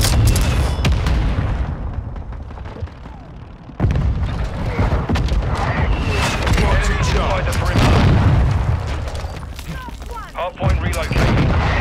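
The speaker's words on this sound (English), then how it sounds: "Mortar strike inbound now." Mortar strike explosions in Call of Duty: Modern Warfare II thud and boom repeatedly, loud and close, amid scattered gunfire, with voices talking over the barrage.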